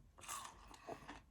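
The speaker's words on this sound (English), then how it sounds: "Gotta try these fries. They look interesting." Someone bites into and chews fries, a few faint, close crunches in quick succession, with no talking.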